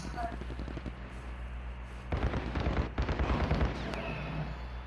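Call of Duty Warzone gunfire crackles in short bursts of shots in the middle of the clip, moderately loud over game ambience, while players talk.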